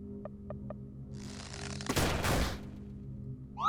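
In the video game LISA, an enemy's shooting attack sounds as a short burst of harsh, noisy gunfire after a few small chiming blips, fairly quiet and alone.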